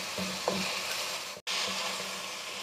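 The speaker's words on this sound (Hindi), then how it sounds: "आलू को डाल देंगे और फ्राई करेंगे" Potatoes and eggplant fry in a pan for aloo baingan, giving a steady, loud sizzle with a brief stir knock near the start and a momentary drop-out midway.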